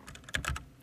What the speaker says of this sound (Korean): LED 딱 이렇게 밝게 빛나는 키보드 사줘가지고 이렇게 누르는 것도 굉장히 부드러워요